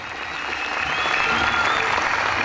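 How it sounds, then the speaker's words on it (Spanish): Audience applause at a live show in Montevideo, a dense, steady wash of clapping from a standing crowd that holds loud and even throughout, with faint cheering under it. "Fuerte el aplauso, fuerte, fuerte el aplauso."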